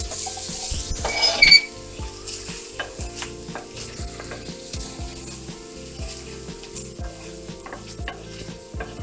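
Shallots sizzle steadily in a pan on medium-low to low heat, a soft continuous frying crackle heard up close with occasional stirring scrapes and no talking.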